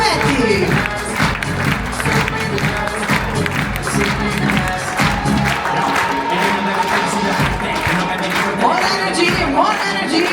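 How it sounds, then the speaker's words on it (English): A large cruise ship audience applauds and cheers for the captain at a shipboard event, with sustained loud clapping and crowd noise filling the full stretch, and a voice talking over it. "Once again, a huge round of applause"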